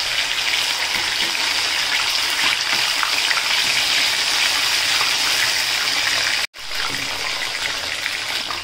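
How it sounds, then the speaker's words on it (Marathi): Soya chunks coated in curd drop into hot oil and fry, giving a dense, steady sizzle and crackle at close range, with a brief cut near the end and no talk. "त्यामुळे आपण तेलात टाकल्या सोयाबीन एकदम तडतडायला लागले"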